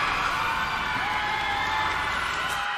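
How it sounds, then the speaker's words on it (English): A large crowd of esports fans at a Philippine Mobile Legends pro league match (MPL-PH) cheers for Blacklist International after a game win, a dense, steady roar that holds for the whole stretch, loud and unbroken. "Hear the crowd roar as a sea of agents cheer on Blacklist International with that game 1 victory."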